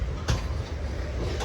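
A Guruvayur Express passenger train rolls into Tiruchirappalli junction with a steady, loud rumble, one sharp clack standing out near the start.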